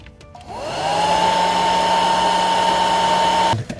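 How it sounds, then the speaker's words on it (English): A heat gun blows steadily at close range while heating a DeLorean evaporator drain elbow, its fan rising to a loud, even whine with a sustained tone that runs for about three seconds before cutting off. "take an ordinary flat blade screwdriver and a heat gun and just heat it up for a moment or two, probably about 10 seconds"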